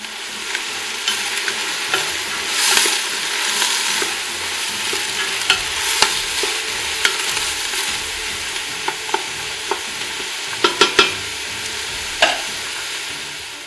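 Sliced onion, celery and carrots fry in olive oil for an Italian bolognese sauce, giving a steady close sizzle throughout with intermittent scraping stirs and utensil clicks, no talk.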